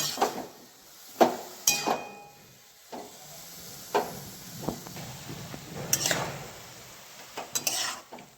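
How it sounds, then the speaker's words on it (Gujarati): Bottle gourd is stirred and roasted with a little ghee in a pan over a low flame, giving repeated sharp spatula scrapes and taps against the pan over a soft, steady sizzle, close and alone. "દૂધીને આપણે ધીમા ગેસ ઉપર થોડો થોડો હલાવતા રહીશું અને શેકતા જઈશું"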